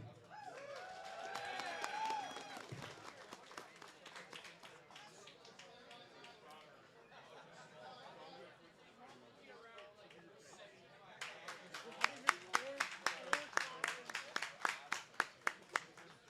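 Crowd at a powerlifting meet cheering and clapping for a medal winner on a makeshift podium, with talk and chatter first, then a burst of rhythmic applause from a nearby crowd.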